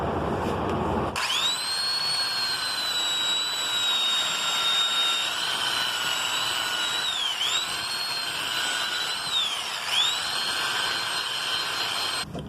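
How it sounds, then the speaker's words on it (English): A loud old belt sander runs continuously with a high whine, smoothing metal edges on a go-kart frame, its pitch dipping briefly twice as it presses into the work. "we're going to smooth everything out with the world's oldest and loudest belt sander"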